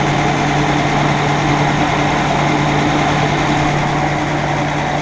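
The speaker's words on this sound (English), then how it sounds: "Good running little engine." A 1952 Dodge pilot house truck engine running at a steady, even idle, a loud close low rumble with constant vibration and no voices.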